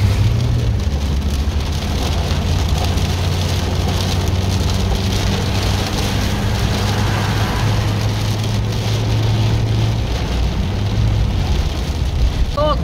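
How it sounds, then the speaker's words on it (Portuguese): Steady, dense patter of rain drumming on the body of a car, an even wash of drops continuing throughout with a low hum underneath and no talk. "Glória, deu uma amenizada na chuva"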